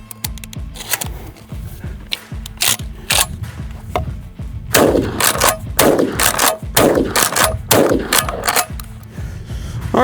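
A McCoy PAS pump shotgun loaded with Top Gun 7.5 shot is handled with clicking mechanical loading sounds, then fires several sharp, loud blasts spaced by the clack of the pump action working between shots.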